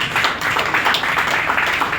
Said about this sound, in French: Si vous êtes d'accord avec cette résolution, applaudissez ça.